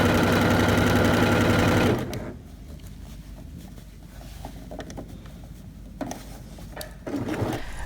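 A sewing machine runs steadily and loudly for about two seconds, stitching a 1 cm seam joining the front and back pieces of a beginner's dress or top, then stops, leaving a quiet room with a few soft handling noises.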